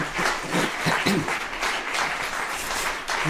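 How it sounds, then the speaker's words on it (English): Audience applause in an auditorium after a chamber orchestra concert, a steady dense wash of clapping throughout. "adding the applause from the virtual audience to the physical audience in this beautiful auditorium."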